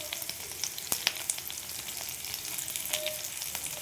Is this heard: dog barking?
no